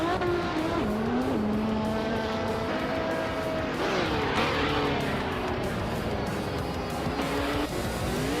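A 1966 Porsche 906 vintage ultralight race car in a racing video game, its engine whining loud and close as it revs up and shifts, with pitch sweeps through gear changes and tire noise under a constant roar.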